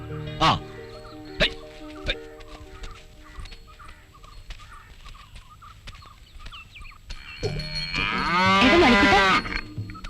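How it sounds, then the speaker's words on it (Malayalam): A cow lets out a long, loud moo near the end in a rural Malayalam comedy film scene, after several short sharp knocks, with voices speaking and faint farmyard sounds around. "തോമസുട്ടി, ദേ പശുവിനെ ചവിട്ടിക്കാൻ ആൾ വന്നു."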